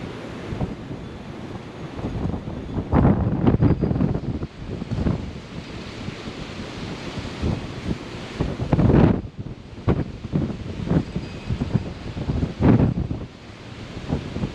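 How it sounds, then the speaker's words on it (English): Strong wind at the shore on a sheepshead fishing day buffets the microphone with loud, gusting roars and rumbles, and surf sounds under it, with no talk. "God, this wind is whipping."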